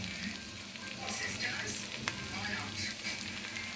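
Fried fish pieces tossed into a pan of soy sauce and vinegar, sizzling steadily up close while being stirred, with a sharp utensil tap partway through.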